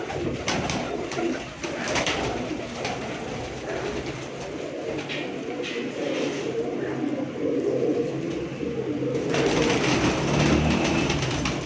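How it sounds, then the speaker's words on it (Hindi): Golden pigeons coo in low, repeated rolling calls, several birds overlapping steadily throughout in a rooftop breeding setup, with a faint mechanical hum underneath. "गोल्डन कबूतर है जनाब"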